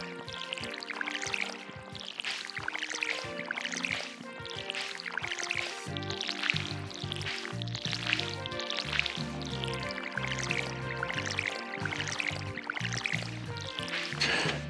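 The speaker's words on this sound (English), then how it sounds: "Let's water these potatoes." Watering potatoes in Stardew Valley: short, repeated splashy pours from a watering can, several in sequence over steady in-game music.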